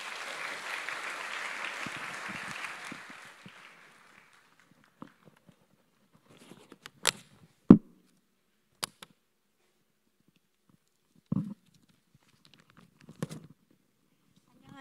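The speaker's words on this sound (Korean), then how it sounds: "박수로 환영해 주시기 바랍니다" An audience at a medical mission conference Sunday worship applauds to welcome a missionary speaker; the clapping lasts about four seconds and fades, followed by near silence broken by a few scattered knocks and handling sounds.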